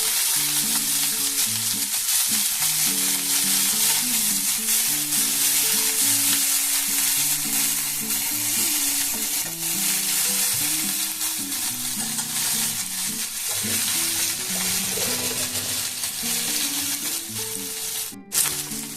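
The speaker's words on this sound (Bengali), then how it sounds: "পেঁয়াজগুলো যাতে ভাজাও হয়ে যায় আর সাথে সাথে নরমও হয়ে যায়" Chopped onions fry in a hot pan for an egg omelette curry, a loud continuous sizzle with occasional stirring scrapes over background music.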